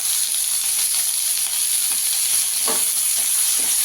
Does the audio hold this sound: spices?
yes